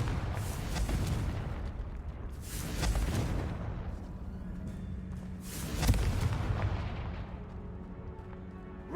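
Repeated Confringo fire-spell blasts in the video game Hogwarts Legacy, loud booming explosions at intervals of about three seconds over a continuous rumbling game background, with no talk.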